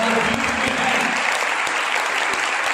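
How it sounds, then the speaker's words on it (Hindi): A congregation claps loudly and continuously at a crusade meeting in Ambala, a dense, sustained roar of many hands close by, with a voice faintly underneath. "प्रभु यीशु और पवित्र आत्मा के लिए सभी जन जोरदार ताली बजाएं"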